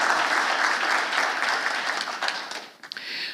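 A hall audience gives dense, continuous applause that swells as a broad wash of hands, then thins and trails off into a few scattered claps near the end.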